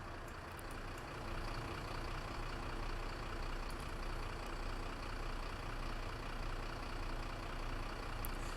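A bus engine idles steadily in the OMSI 2 simulator, a low, even rumble that holds for several seconds with faint high clicks above it and no other sounds.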